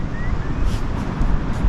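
Gusty wind buffets a microphone outdoors on the coast at Cairnbulg, Scotland, near a shipwreck, producing a continuous low rumbling blast that fluctuates with the gusts.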